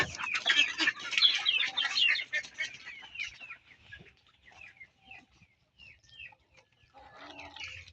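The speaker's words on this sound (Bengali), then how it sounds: "এই যে আমার হাঁসগুলো" Ducks on a small home farm, let out late after heavy rain, call in a busy, overlapping flurry of nearby squawks and chatter that thins out into scattered single calls, then a brief burst returns.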